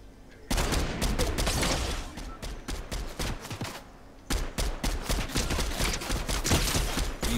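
Rapid, dense gunfire from a first-person shooter game, with loud sustained bursts that pause briefly midway and then resume just as heavily.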